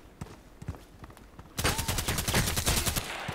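Gunfire in the online shooter Contract Wars: scattered single shots at first, then a loud, dense burst of rapid automatic fire that carries on to the end.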